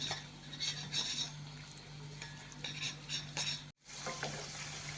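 Cabbage vadas frying in hot oil: a continuous close sizzle, with repeated light metallic scrapes and clinks of a utensil stirring in the pan and a brief cut-out near the end.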